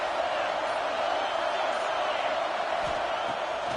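Large crowd at a Georgia vs Florida State college football game roaring in a stadium, a dense, continuous wash of distant cheering and noise that holds steady throughout, with no clear single voices.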